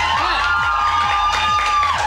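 A studio audience on a 1999 ABC TV show claps and cheers, a dense, continuous roar of applause with whoops over a rhythmic music-like pulse, loud and close throughout.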